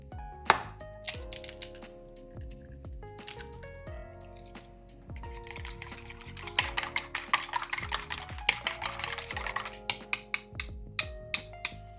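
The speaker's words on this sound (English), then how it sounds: "we're going to crack open our eggs and beat them well" Eggs being whisked in a bowl for Japanese fried rice, a steady run of quick, sharp clinking strokes close up that speed into a rapid, loud rhythm toward the end, with no talking.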